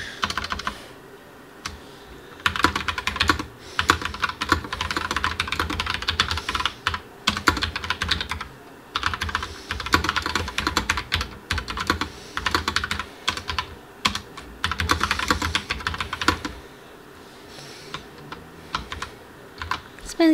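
Typing on a Logitech Pop Keys keyboard gives a close, fast, uneven clatter of key clicks in bursts with short pauses, no voices.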